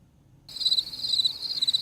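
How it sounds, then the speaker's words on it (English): Steady cricket chirping rises out of silence after half a second, a continuous high, pulsing trill that carries on evenly to the end with no voices. "Do you guys hear those crickets?"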